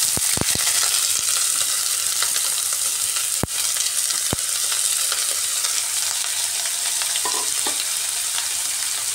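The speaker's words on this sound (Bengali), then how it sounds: "এবার এর মধ্যে কুচিয়ে রাখা পেঁয়াজ দিয়ে দিচ্ছি।" Chopped onions, two large ones, fry in hot oil in a pan for a homestyle tandoori egg curry, giving a steady loud sizzle throughout with a few sharp clicks of stirring.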